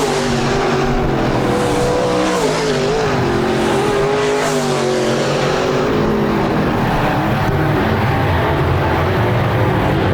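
Modified race cars roar around the Park Jefferson Speedway dirt oval, engines droning steadily and loudly with shifting pitch as the pack stretches out, a continuous dense field of motor noise with no talk.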